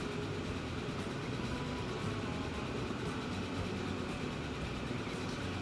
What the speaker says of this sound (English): I do love these big train stations.